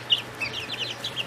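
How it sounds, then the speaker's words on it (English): An unusual chicken of uncertain breed gives a short series of soft, high clucks and chirps, close and moderately quiet, over a low steady hum. "That was a strange chicken."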